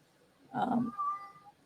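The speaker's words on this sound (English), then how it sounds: "Oh, my cat's upset about something." A house cat meows in distress, one drawn-out, wavering cry that rises then trails off, fairly close and heard alone in a quiet indoor room.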